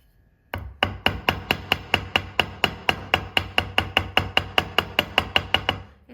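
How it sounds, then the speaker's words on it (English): Steady, evenly spaced metal hammer taps flatten a wire earring frame on a block, about twenty crisp close strikes in a regular rhythm with nothing else heard. "So if you have a block, just quickly hammer it."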